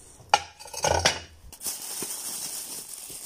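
Old porcelain plates, including an eight-sided dish, clink and scrape together as they are handled and stacked, with a few sharp knocks close by, then a softer rustling hiss.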